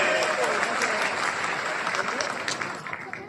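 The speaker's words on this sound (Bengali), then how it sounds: "সবার কাছ থেকে জোরে একটা করতালি আশা করতেছি, অনেক জোরে" A convention hall audience in Chittagong breaks into loud, dense applause, a continuous wash of many hands clapping that holds strong before tapering slightly toward the end.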